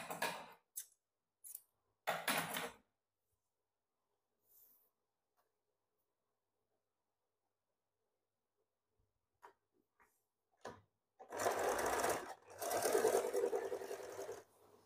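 Sewing machine joining blouse neck strip pieces, with short bursts of stitching early on, a long quiet stretch with small clicks, then two longer, louder runs of stitching near the end.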